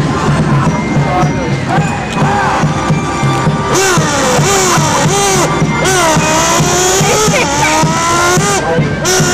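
A voice imitates a revving motorbike, with rising and falling engine-like pitch sweeps and skidding squeals, loud and continuous over a busy background at an outdoor summer festival show.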